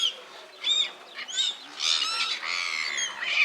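Several birds squawk and call in bursts while being fed salmon at a high-country salmon farm on New Zealand's South Island, loud nearby harsh cries overlapping with short gaps between them.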